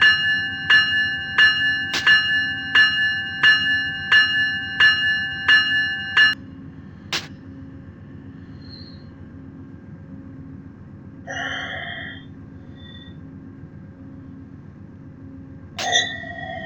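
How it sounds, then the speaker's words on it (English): A locomotive bell on an Amtrak 719 passenger train in the Run 8 train simulator rings in an even, steady rhythm for about six seconds, followed by a few isolated clanks and a short hiss, with no talking. "Amtrak 719 departing Bakersfield."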